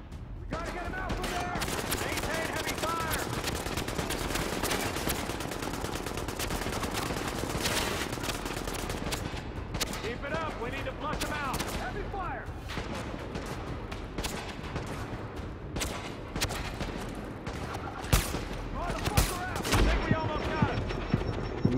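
Rapid gunfire from blind firing in the game Tom Clancy's The Division, dense bursts and sharp cracks rolling on continuously and loudly, with a voice speaking over parts of it.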